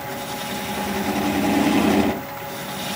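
A 3/8 inch swept-back bowl gouge cutting a wooden bowl on a lathe, a steady motor hum with a rougher, louder cutting rasp swelling for a moment before easing off.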